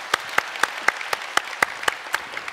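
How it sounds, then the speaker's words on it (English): Clapping at a Linux keynote conference as thanks to a translator: a brief, steady run of evenly spaced claps, clear and fairly close. "please give a round of applause to our translator who helped us here"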